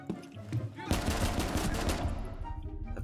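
Pistol fire in Rainbow Six Siege, a rapid string of close shots bursting in after a quiet start, dense and loud for about two seconds before tapering off.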